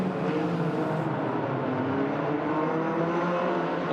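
Hornet race cars lapping in an enduro at Agassiz Speedway, BC, on a road-course layout, their engines roaring steadily and close throughout, with several motors droning together and no pause or break in the noise.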